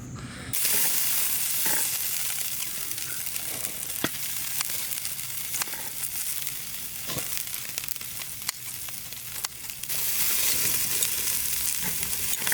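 Pork belly sizzles on a grill at an outdoor fishing spot, producing a dense, continuous crackling hiss that stays loud and even for the whole stretch with no talking.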